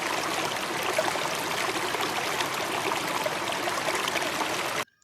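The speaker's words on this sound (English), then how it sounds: "W for water" Water flows steadily in a continuous broadband rush, like a stream or trickle, close and even for about five seconds before cutting off abruptly.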